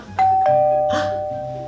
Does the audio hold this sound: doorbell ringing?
yes